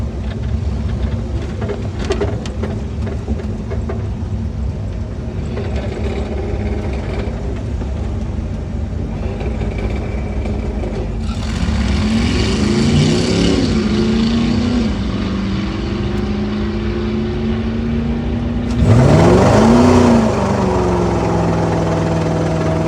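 Fred, a little farm truck at a drag race, its engine running steadily, then rising in revs and a louder pass with pitch sweeps near the end, heard among other cars at the track.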